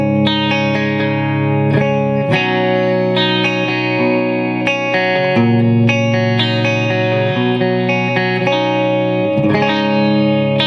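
A clean electric guitar rings out through a BluGuitar AMP1 amp on its clean channel, strummed chords and picked notes sustaining steadily with a touch of reverb, loud and continuous without any voices.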